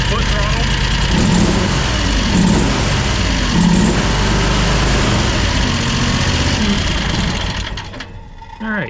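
Engine of a Fland FL45 Chinese wheel loader held at high revs on the foot throttle, a loud sustained drone running almost unbroken for about eight seconds before easing off at the end.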